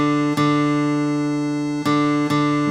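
A guitar's fourth (D) string tuned to match a reference tone, both sounding as steady harmonic notes with three re-attacks in under three seconds, near and loud, with no voices.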